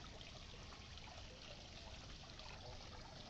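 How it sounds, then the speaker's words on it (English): A water fountain beside a small plunge pool at a holiday getaway in Moonwalk, Parañaque, Philippines trickles and splashes in a constant soft, even wash with no talking over it. "The water fountain."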